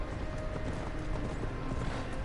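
A horse's hooves clatter in Assassin's Creed Valhalla, a dense, continuous clip-clop pattern mixed into a loud, noisy game soundscape.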